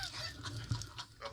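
Several turkeys gobble and honk in a quick, clustered burst, with one louder call near the middle, all close by and fairly faint with no talking over them.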